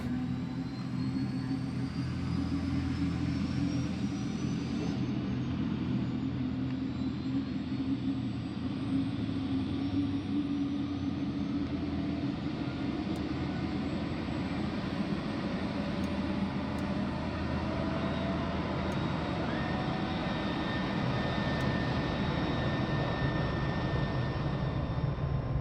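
An F-35 jet engine spooling up during startup in Microsoft Flight Simulator 2020, a faint steady turbine whine and low rumble with a rising tone, no talking.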